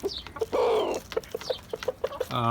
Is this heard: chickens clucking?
yes